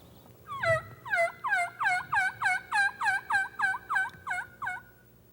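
Wild turkey gobblers gobbling in a long run of about a dozen rapid, evenly spaced gobbles, clear and fairly close against a quiet outdoor background.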